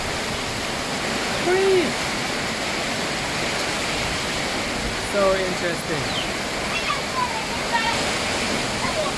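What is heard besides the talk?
rain during rainy season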